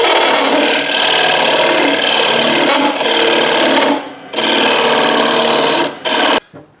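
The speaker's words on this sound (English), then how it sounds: "I'm going to try using this round tool. Just scrape away at that and get it more even." A round lathe tool scraping the inside of a small live-edge wooden bowl on a lathe, a loud continuous close-up rasping hiss with a few brief pauses before stopping.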